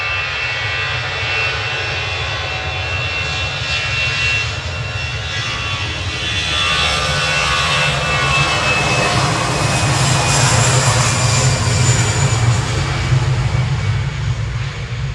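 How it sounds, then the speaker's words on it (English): A jet airliner roars steadily as it departs Manchester Airport on a flight to Hamburg, a loud continuous engine rumble with a high whine that swells slightly midway and holds for the whole stretch. "GZRT departing now with flight 2195 to Hamburg."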